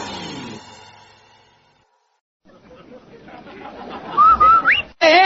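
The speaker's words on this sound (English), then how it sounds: "Annie, did you hear that whistle?" A rising-and-falling whistle tune in an old-time radio advertisement for Rinso soap, sounding near and clear after a quiet gap, with a voice heard briefly beforehand.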